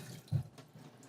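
Tap water runs briefly into a kitchen sink as fish is rinsed inside and out, a quiet, short splash with a slightly stronger burst near the start.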